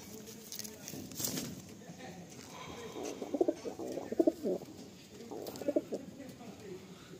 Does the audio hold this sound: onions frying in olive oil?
no